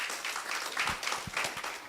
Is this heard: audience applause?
yes